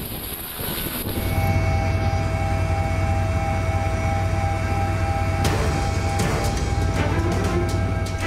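A police helicopter flies over flooded Jakarta with a continuous loud turbine whine and rotor drone, growing fuller after a second and staying steady throughout.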